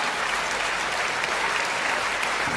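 Dense, continuous applause fills the hall at a Hindi comic poetry recital, a steady roar of many hands clapping with no pause.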